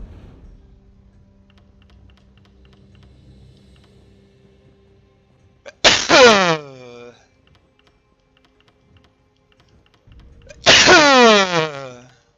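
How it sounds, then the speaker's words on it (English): Two loud, close sneezes burst out several seconds apart, each a sharp explosive blast that trails off quickly, over a faint background of low hum and a soft earlier murmur. "sorry for the sneezing"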